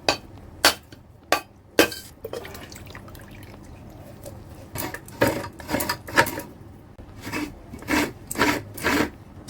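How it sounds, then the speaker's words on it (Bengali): A whole coconut is cracked open in a home kitchen while food is prepared for a Janmashtami puja, giving sharp, hard knocks in scattered bursts of two or three, with faint clinks and drips between them. "নারকেলটা আমি ফাটিয়ে নিচ্ছি।"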